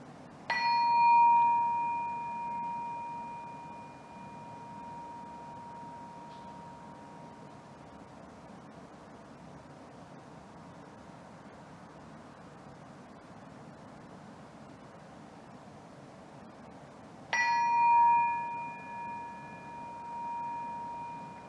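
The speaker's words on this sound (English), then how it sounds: "Just listen to the bell sound." Two clear strikes of a meditation bell, each a bright ringing tone that hangs and slowly fades over many seconds, the second arriving about seventeen seconds after the first, alone over soft background hiss.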